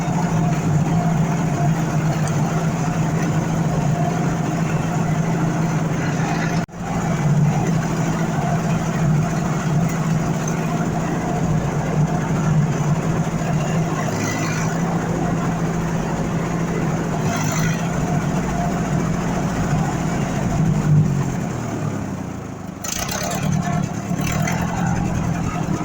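A logging truck engine idles steadily with a low, even hum that runs throughout, broken briefly by a clunk early on and some shifting noise near the end.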